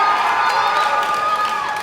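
A wrestling crowd at the Elements venue in Irwin, Pennsylvania cheers and shouts loudly in one sustained roar of many voices.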